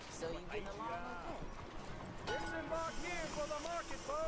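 Hooves clip-clop in the Red Dead Redemption 2 video game, a quick, irregular patter under a busy mix of game voices and chatter.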